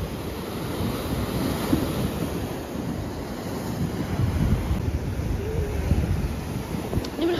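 Sea waves breaking on the shore at Tripoli, a continuous rough wash of surf with wind buffeting the microphone, swelling and receding without pause, fairly loud and close.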